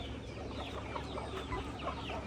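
Chickens on a small farm cluck softly and steadily against a constant background noise, with scattered faint clucks and no talking.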